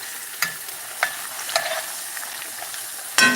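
Potatoes and onion fry in a pan and get stirred. A soft sizzle runs throughout, and a spatula scrapes and clatters in sharp, separate strokes about every half second to a second, heard close up with no talking.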